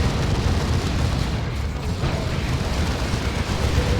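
A Land Raider tank is destroyed in the Warhammer 40,000 game Dawn of War 2, a deep, rumbling explosion sustained through a dense battle din of booming artillery and cannon fire.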